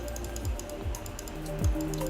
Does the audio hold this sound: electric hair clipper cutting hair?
no